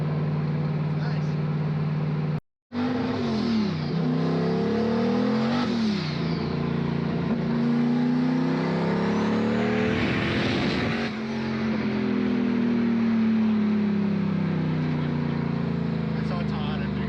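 A stock-block turbocharged Ford Foxbody Mustang engine revs hard on a dyno, rising and falling in long sustained pulls with a brief cut near the start, loud and close, with voices heard faintly underneath.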